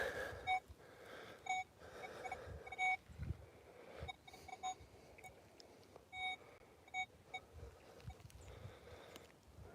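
A metal detector sweeping grass on an old farm gives short, faint electronic beeps at irregular intervals, separated by quiet rustling and low background noise.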